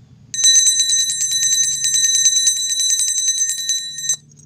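A bell sold by a Jakarta online pawnshop rings in a steady, fast trill for about four seconds, bright and close, with a faint low hum beneath and no talking.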